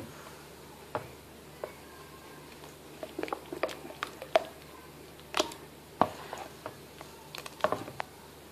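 Baghrir crêpe batter is stirred in a bowl, producing irregular soft taps and clicks of the utensil against the side. They start sparse and become more frequent, close and quiet, with no talking.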